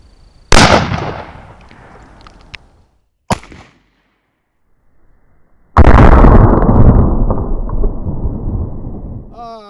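A Micro Draco pistol fires a single 9mm full metal jacket round outdoors, a loud sharp close report with a short decaying echo, a small thud shortly after, then another loud sustained blast-like burst.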